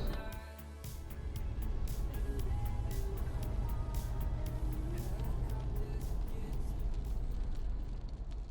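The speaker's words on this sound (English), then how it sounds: "now we're getting on the car to our first station" Low, steady engine and road rumble inside a moving car on the way to Yuhuang Temple in Jincheng, Shanxi. The drone runs continuously with light rattles and ticks throughout, and no voices are heard.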